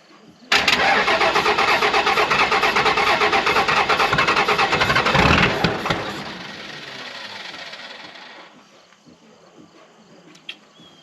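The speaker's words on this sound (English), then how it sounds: "Remote start action." A truck engine is started by remote start: a loud crank catches and roars up close, idles roughly for several seconds, then settles lower and fades toward a quiet idle with crickets chirping faintly behind.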